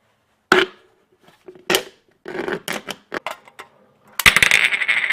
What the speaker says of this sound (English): Now we're gonna cut it on the line